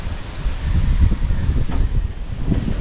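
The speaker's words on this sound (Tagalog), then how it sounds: "Tapos malakas yung ihip ng hangin para masarap magtrabaho." Strong wind blowing outdoors, a steady low rushing and buffeting across the microphone with gusts rising and falling continuously, no voices over it.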